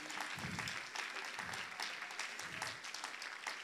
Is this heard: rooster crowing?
no